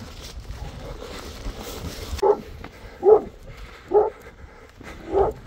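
A pack of Kangal dogs barking outdoors, four separate barks spaced about a second apart, moderately distant over a quiet, rumbling background.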